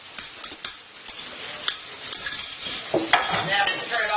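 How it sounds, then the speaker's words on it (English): Pasta and egg for Calabrian carbonara sizzle and fry in a hot pan while a utensil stirs and scrapes, with clinks against the metal, a steady close hiss throughout. "So you throw the pasta right in. Oh, I hear it sizzling up."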